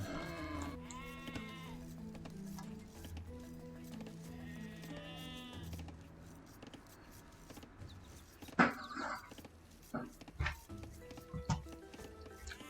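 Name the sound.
sheep bleating in a video game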